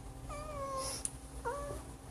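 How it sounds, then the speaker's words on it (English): A house cat gives two soft, drawn-out meows a moment apart, faint and slightly distant against a low steady hum in a quiet room. "My kitty cat wants to say hi."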